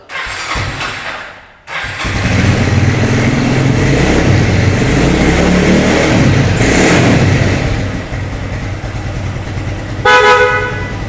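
An old Honda GL Pro motorcycle with its original stock exhaust sputters, then starts and runs loud and steady with some revving, followed by a short horn blast near the end.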